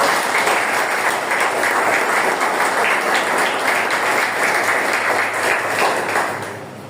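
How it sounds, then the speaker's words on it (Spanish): A church congregation claps together during a sermon, a dense, steady wash of hand claps that holds for several seconds and then fades out. "Dale palmas al Señor."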